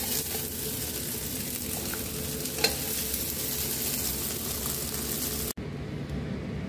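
Soya chunks fry in hot oil in a pan as a continuous loud sizzle, with stirring scrapes and clinks throughout until the sound cuts off abruptly near the end.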